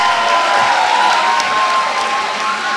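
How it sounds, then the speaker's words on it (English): An audience at a school annual day gives a big round of applause, dense, loud crowd clapping with a faint steady tone running underneath, brief and unbroken. "Will we have a big round of applause for"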